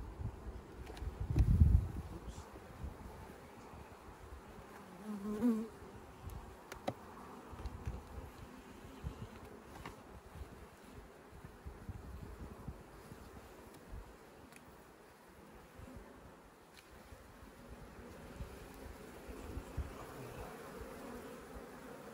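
Honey bees buzz steadily around an opened hive while the brood frames are checked, forming a dense, continuous drone with light wind and rustling nearby.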